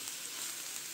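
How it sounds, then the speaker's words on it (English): Onion frying in a pan for pilaf rice, a steady close sizzle with a bright, even hiss that carries on without a break and has no talk over it. "The onion is getting golden"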